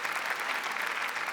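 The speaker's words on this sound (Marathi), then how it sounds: "जोरदार टाळ्या अजय सरांसाठी." Studio audience applause at a Marathi television comedy show, a dense, steady wash of many hands clapping that stays loud and even throughout, with no talking.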